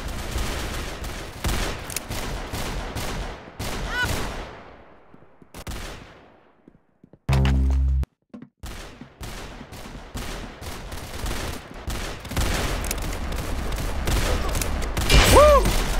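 Rapid bursts of gunfire crack out in quick, loud volleys, drop into a brief near-silent gap, then resume as dense, close shooting.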